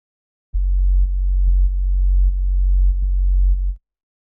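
A deep EDM bass tone pumps with side-chain ducking, swelling and dipping in a regular rhythm for about three seconds before cutting off.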